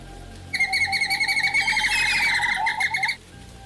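Small Jurassic Park lizards scatter through a rainy night, chirping and squeaking: a dense burst of shrill, bird-like twittering calls rises suddenly, holds for a few seconds over a soft background hiss, then stops.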